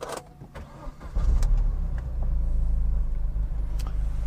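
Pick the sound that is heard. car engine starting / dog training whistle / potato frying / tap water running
car engine starting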